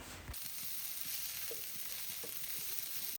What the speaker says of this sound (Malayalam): ഈ സവാളയൊക്കെ ഒന്ന് നല്ലതുപോലെ ഒന്ന് വഴന്ന് വരണം